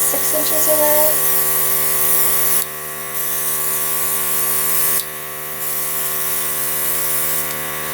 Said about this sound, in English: Now remember with airbrushing, you want to go in layers.